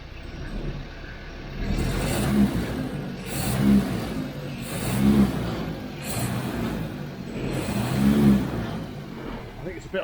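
A 1979 MG Midget 1500 engine with a lean mixture revs up in four repeated swells roughly every two seconds, a steady idle rumble between them, close and fairly loud.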